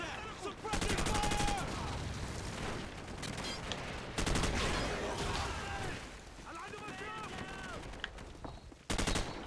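Repeated bursts of automatic gunfire in Call of Duty 4: Modern Warfare, loud volleys and rattling shots recurring across the scene amid battle noise, with soldiers' voices calling out between the bursts.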